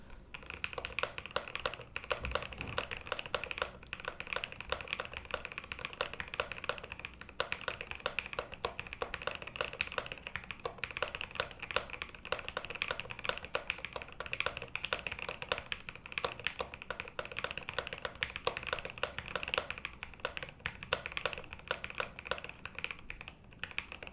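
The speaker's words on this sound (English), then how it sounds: "You guys want to hear a really deep sounding keyboard?" Steady typing on a Moondrop DASH mechanical keyboard whose switches give a notably deep, thocky tone, with continuous close keystrokes running throughout and no talking.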